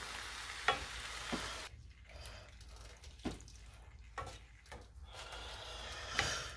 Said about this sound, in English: so as this starts to simmer